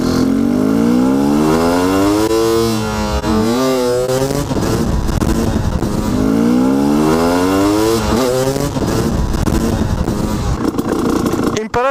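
A motorcycle pulls away in second gear to lift into a wheelie, its engine revving loud and close with rising, falling pitch sweeps that repeat through the run as the throttle is snapped shut and reopened.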